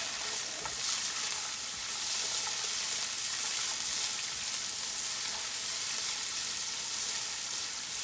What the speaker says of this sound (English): kind of saute in the oil here for 3 or 4 minutes, because we're going to let that the onions start to kind of brown up a little bit